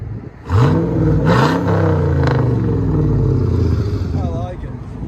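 A straight-piped LS1 V8 car engine revs hard several times, its deep exhaust roar rising and falling in loud, close bursts before settling back toward idle.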